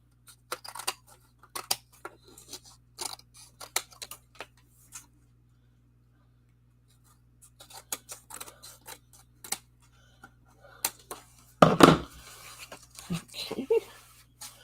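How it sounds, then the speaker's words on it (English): Scissors snip through an oversized piece of patterned paper card, trimming it down in a series of short, crisp cuts that come in uneven bursts, with a louder stretch of rustling and cutting near the end over a steady low hum. "This piece of Mary was extra large, so I'm trimming it down."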